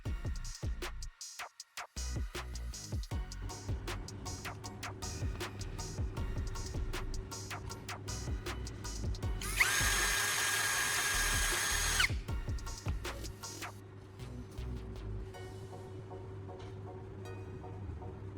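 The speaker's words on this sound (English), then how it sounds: "To bind them tightly, I'm inserting one end of the bundle into the chuck of my power drill." A handheld power drill spins to twist a bundle of wires clamped in its chuck, a sustained whirring run of a few seconds in the middle, framed by clicks, handling noises and quiet pauses.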